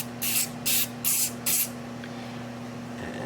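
Four quick bursts from an aerosol spray can hiss close by in an even rhythm, each lasting about a quarter second, followed by quiet room tone.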